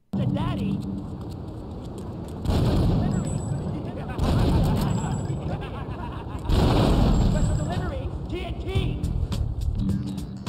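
Gunfire in the Grand Theft Auto III video game, fired at enemies stepping out of a van: loud, dense bursts of shots layered over constant game noise, rising in waves across the clip.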